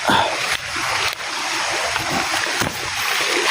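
Water splashing and sloshing steadily as someone wades through a shallow forest stream along a steep, rough trail, the broadband rush continuous and close throughout.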